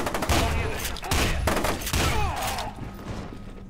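Pump-action shotgun blasts in the video game Fear, three loud booming shots in quick succession, each followed by a rumbling tail, with faint game sounds after the last.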